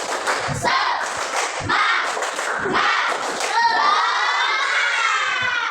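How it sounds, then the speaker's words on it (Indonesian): A fifth-grade class of children chants and claps in unison for a spirit clap, with shouted young voices and rhythmic thumps of hands filling the room. "Tepuk semangat."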